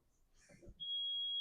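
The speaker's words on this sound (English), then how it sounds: "long beep. If I open the hood, short beep." A tire balancer gives a single long electronic beep as its hood is lowered on reed switches, a sustained steady tone starting after some faint handling noise and continuing to the end.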